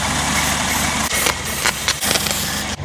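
A rebuilt-carburetor Ford Escort Mk2 engine idles steadily and close, a continuous low rumble with a few brief throttle blips and dips, no speech.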